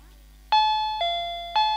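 An electronic doorbell rings three times in quick succession, each a clear sustained tone, close and loud with a steady low hum underneath, during a Chhattisgarhi nacha gammat folk theatre performance.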